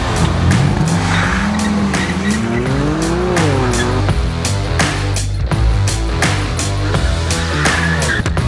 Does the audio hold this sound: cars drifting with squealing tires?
yes